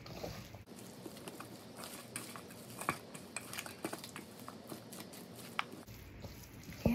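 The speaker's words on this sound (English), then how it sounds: "Now I'm just gonna stir it all up." A spoon stirs chicken salad with chipotle and garlic in a bowl, giving a steady run of soft, close scraping and light clinking taps at an irregular rhythm, with no voices.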